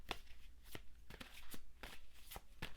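A deck of tarot cards being reshuffled by hand, a quiet series of soft riffling snaps and slaps arriving in an uneven rhythm, close up and alone with no talking.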